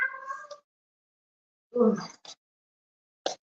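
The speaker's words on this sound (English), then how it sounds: "Kitty Kitty singing to you again." A house cat meows several times, a long drawn-out call at the start followed after a pause by a short burst and two brief chirpy cries, close and clear with silence between.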